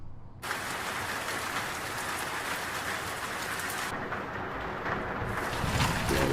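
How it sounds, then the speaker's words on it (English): Steady rain pouring down, a dense continuous hiss of drops on surfaces that holds evenly throughout and swells slightly near the end, with no voices. "That is some rain."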